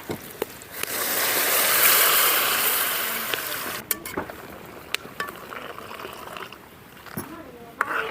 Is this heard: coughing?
no